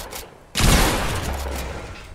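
Gunfire in the video game Fortnite: a sudden loud broadband blast kicks in after a short quiet stretch, followed by a sustained rumbling burst of shots that stays dense and close to the end.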